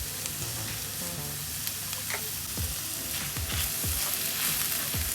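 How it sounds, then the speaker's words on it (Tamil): Scrambled fish eggs with turmeric and salt fry over a slow flame in a pan, a steady bright sizzle with the soft scrape of a spatula stirring and mixing at an even pace, no voices. "இதை நல்லா ஸ்லோ ஃப்ளேம்ல வச்சு மிக்ஸ் பண்ணிக்கிட்டே இருக்கணும்"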